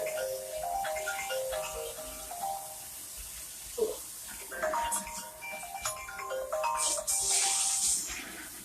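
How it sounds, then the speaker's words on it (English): A phone ringtone chimes repeatedly over running water during a hair wash at a salon, with faint voices in the background and the melodic tones rising in the second half. "You need to grab your phone?"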